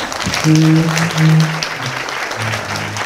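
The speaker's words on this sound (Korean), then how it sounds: "큰 박수 한번 부탁드립니다" Loud, sustained applause from a university lecture audience welcoming a World Bank vice president, a continuous crowd clatter with a sung or spoken tone mixed in at times.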